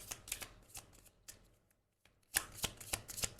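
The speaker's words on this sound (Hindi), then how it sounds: "अब कार्ड मैं इंट्यूटिवली निकालने लगी हूँ।" Tarot cards being shuffled and drawn, quiet close riffling and flicking bursts of card edges, separated by a brief silent pause before a livelier run of shuffling.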